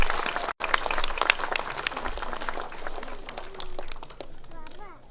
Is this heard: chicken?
no